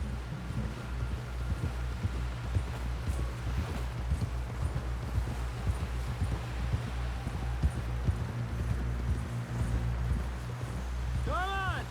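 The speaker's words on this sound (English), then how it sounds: "Someone help John down off this horse." Rhythmic horse hooves clop steadily along over a low wind-like rumble in the video game Red Dead Redemption 2, a constant trotting pace with a few indistinct voices near the end.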